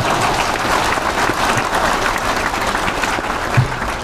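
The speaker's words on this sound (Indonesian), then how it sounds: "Kok ada tepuk tangannya ya?" Audience at a university graduation ceremony applauds steadily with dense, continuous clapping that holds at an even level throughout.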